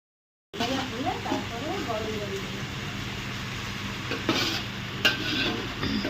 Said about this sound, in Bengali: এদিকে মাংসটাও ভাজা হচ্ছে, এরপরে এতে মশলা দেওয়া হবে।